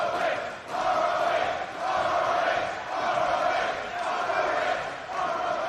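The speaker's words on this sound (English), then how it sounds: "The crowd enjoying the competitive nature of this contest." A wrestling crowd at a Ring of Honor event roars steadily through a match, a dense, loud, sustained cheer that swells and dips in slow waves without pause.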